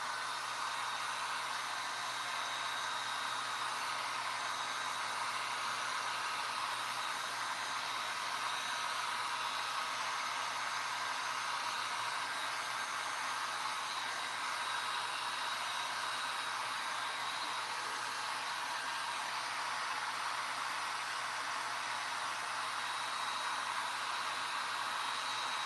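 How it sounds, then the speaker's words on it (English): A hair dryer blows steadily and alone for nearly half a minute, drying fresh limewash on clay garden pots, its airy rushing hiss unbroken and even from start to finish. "I'm going to do a hairdryer really quick so you guys can see that"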